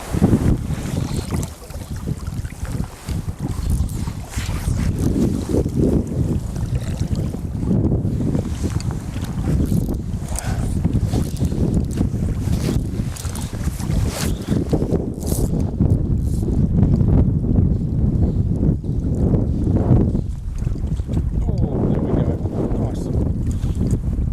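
Strong wind blows across a mountain river in Australia's Snowy Mountains during fly fishing, a loud continuous roar of wind buffeting the microphone with gusting surges throughout.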